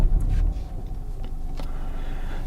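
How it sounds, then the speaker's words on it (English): A new BMW 1 Series Sport fires up with a brief loud low rumble at the start, then settles into a quiet, steady idle hum. "Let me actually start the car."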